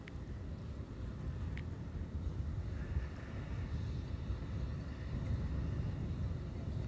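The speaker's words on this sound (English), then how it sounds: "Here's WestJet, flight 70, arriving from Halifax in Canada." A WestJet airliner lands on runway 18R at Amsterdam, arriving from Halifax: a steady, distant low roar of jet engines and rushing air that holds evenly throughout, with no speech.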